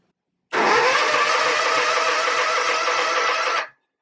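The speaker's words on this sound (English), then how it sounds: "The fuel line is completely empty, so it's going to take a few cranks to get it to pump." Kawasaki engine cranking over with an empty fuel line, a loud, close, steady starter grind with rapid rhythmic pulses that runs for about three seconds and then cuts off, with no talking.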